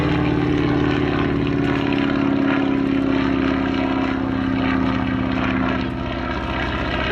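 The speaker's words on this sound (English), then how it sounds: "an N2S from the US Navy built. It's believed in about 1942 or 43, 220 horsepower for its Continental R670 engine" Steady, loud drone of a US Navy Boeing-Stearman N2S biplane built around 1942–43, its 220 hp Continental R670 radial engine running with a deep, even propeller hum throughout, heard alone outdoors at an airshow.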